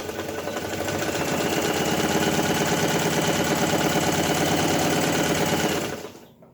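A Lucznik Radom 432 sewing machine motor whirs at top speed, about 900 rpm, with a steady, rapid mechanical rattle, starting up and then cutting off abruptly near the end.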